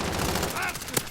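Hip-fired Vector rounds in Call of Duty Modern Warfare crackle in a dense, rapid burst with one sharper shot near the end, sounding close and steady under faint background game noise.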